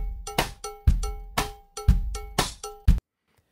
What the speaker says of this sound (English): Okay, I have a drum loop in Regroover.